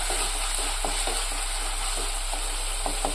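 Spices tempering in hot oil for a restaurant-style mackerel fish curry, a steady loud sizzle with continuous crackle and faint intermittent stirring clicks, no voices.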